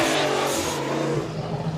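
Drift car engine at Suzuka Twin Circuit during qualifying, revving hard then settling into a loud sustained roar, with a commentator's voice speaking faintly over it.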